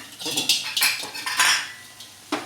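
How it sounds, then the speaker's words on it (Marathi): A metal spoon stirs sugar into sheera, a semolina sweet, in a pan, with loud, close, repeated scraping clanks against the pan's sides. "पुन्हा छान हलवून घेऊया"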